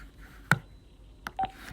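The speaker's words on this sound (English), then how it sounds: "you probably just heard the phone beep because I just got off the phone with Logan Purcell" Short electronic phone beeps at the end of a call: one sharp tone burst, then a pair of brief beeps near the end, each isolated against a quiet background.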